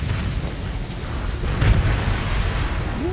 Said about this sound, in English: don't get too close to that explosion.